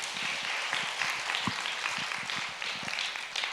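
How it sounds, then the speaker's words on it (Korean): A church congregation at a Friday worship service applauds in a dense, steady wash of many hands clapping, moderately loud and continuous for a few seconds with no voices over it. "큰 박수 한번 주시기 바랍니다."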